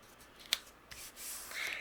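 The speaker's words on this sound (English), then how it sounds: "I'm going to trim off the excess that's overhanging" Scissors snip through excess vellum overhanging a sticker while trimming a handmade card: one sharp close cut, then a softer snip and a longer sliding rasp of the blades along the sheet.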